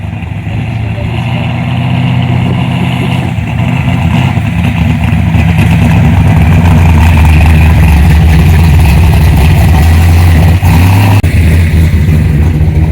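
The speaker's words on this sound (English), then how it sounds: "he's just backing down the frickin' road here" A car engine revs loudly and steadily while the car backs down a rough, bad road, a close, sustained rumbling drone with the pitch climbing near the end. Voices talk over it.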